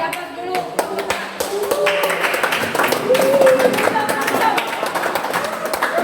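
A classroom of vocational high school students applauds a student group, a steady stretch of lively clapping with voices talking and calling out underneath.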